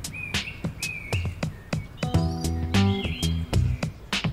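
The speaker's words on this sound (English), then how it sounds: "Crow doing wah wah." A crow gives a short run of harsh, harmonic caws in quick succession, close and fairly loud, among sharp ticking sounds and other bird chirps outdoors.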